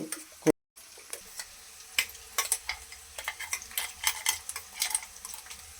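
Coconut rice with curry leaves, onions and green chillies being mixed in a pan, giving soft scraping and clinking spoon strokes over a light sizzle, fairly close and fairly quiet, with no talk.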